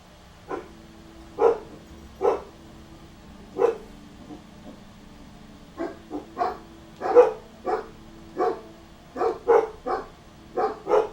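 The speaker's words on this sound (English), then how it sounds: "Let me see what dogs are barking at real quick." Dogs bark in short, sharp bursts, roughly fifteen barks in irregular clusters with brief pauses, fairly close and clear over a quiet background.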